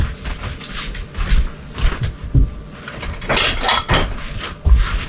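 Dishes and cutlery clink and clatter as roasted potatoes are served into a bowl in a home kitchen, irregular close knocks and scrapes of utensils against crockery, no talk.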